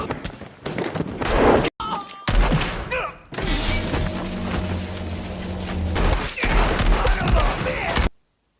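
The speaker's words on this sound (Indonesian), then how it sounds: "Baku tembak pun kemudian terjadi dengan dramatis dan heroik luar biasa." Gunfire from a dramatic shootout scene in the film Django Unchained, with loud crashing shots, thuds and shattering bursts packed across eight seconds of dense, busy action soundtrack.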